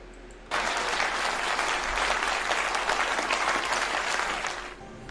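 Sustained applause from a crowd, loud and steady for several seconds, then tapering slightly at the end.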